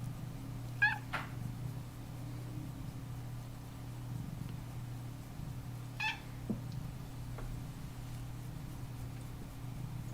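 A house cat gives two short squawking meows several seconds apart, near but fairly quiet, over a steady low room hum with faint rustling between them.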